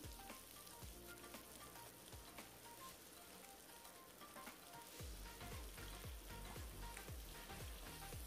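Curry leaves and shallots sauté in a pan for a tamarind curry with turkey berries, giving a steady close sizzle broken by a few scraping stirs, with no voices.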